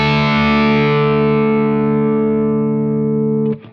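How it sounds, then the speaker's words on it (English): An electric guitar chord rings out through a Protein v4 overdrive pedal, loud and close, with a crunchy sustained tone that slowly decays over a few seconds before being muted. "That's probably where I would live for an overdrive 2 sound."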